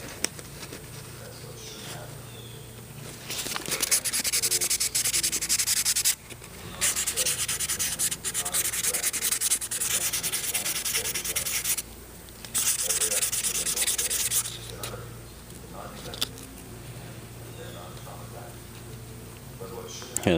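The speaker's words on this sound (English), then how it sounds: "Sanded all this stuff, broken all the edges." Hand sanding of valve body parts from a 1999 Honda Accord BAXA automatic transmission rebuild: steady, raspy back-and-forth rubbing in long bursts with brief gaps, close up, with a voice faintly in the background.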